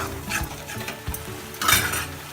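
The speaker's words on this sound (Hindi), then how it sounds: "अब टमाटर का पेस्ट डाल दूंगी इसी में।" Tomato paste cooks in a pan over high flame, with soft sizzling under a few scraping stirs of a utensil against the pan, close and short.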